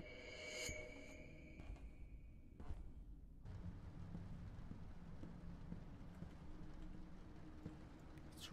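Rain falling in the horror video game The Beast Inside, a steady faint hiss with a low rumbling undertone throughout, briefly overlapped at the start by a higher tonal sound that cuts off.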